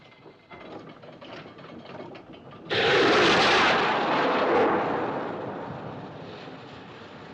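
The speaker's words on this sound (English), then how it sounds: "Looked like a rocket, sir." A ship's distress rocket from the 1997 Titanic film launches with a sudden loud whooshing blast over a low background hum, then fades slowly as a hissing trail.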